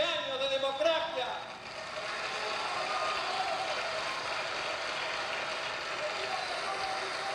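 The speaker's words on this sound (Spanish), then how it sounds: "Y aplauden." Audience applause in a hall following an Argentine presidential speech asking forgiveness on behalf of the State; broad, steady clapping and cheering swells early and then holds as a sustained wash.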